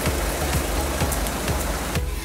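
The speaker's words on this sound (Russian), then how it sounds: "Дождик идет." Steady rain hissing and pattering close by, with a low rumble underneath and no voices.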